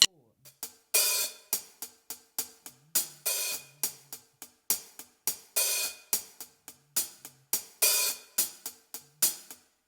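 Hi-hat plays steady eighth notes with a regular open wash that sizzles then snaps shut, repeating each bar, crisp and close with no other instruments.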